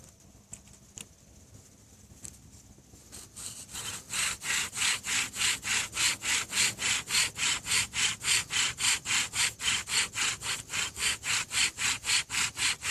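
Bow drill spindle rubbing back and forth in a wooden fireboard for fire-making, a steady rapid rhythm of loud rasping strokes that starts after a few seconds of quieter handling noise.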